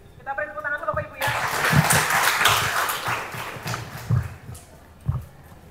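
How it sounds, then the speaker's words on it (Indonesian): Audience applause breaks out after a short musical jingle, a sustained patter of clapping from a seated crowd with voices and speech mixed in beneath it. "Kita beri tepuk tangan dulu Bapak Ibu ya."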